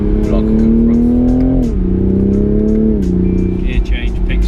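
Loud, close Toyota Supra MK5 engine drone with steady harmonics that dip twice as revs shift, rumbling continuously under the cabin; distinct pops and bangs are not clearly separated from the engine noise.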